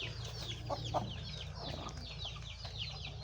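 Backyard Rhode Island chickens cluck steadily at close range, several birds overlapping in a busy continuous chatter with a couple of louder squawks, no people talking.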